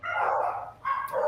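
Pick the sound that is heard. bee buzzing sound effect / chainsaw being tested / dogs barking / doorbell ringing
dogs barking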